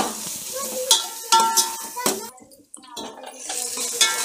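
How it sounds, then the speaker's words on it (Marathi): Ghati masala paste roasts in oil for katachi amti, with a soft sizzle under intermittent scraping and clinking of a spoon against the pan, close and uneven. "आता हे छान भाजून घ्यायचं तेलामध्ये."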